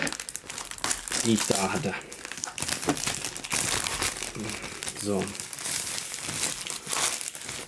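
Plastic packaging of WWE Slam Attax cards cut and pulled open with scissors, producing loud, close crinkling and rustling that continues throughout, with someone talking over it.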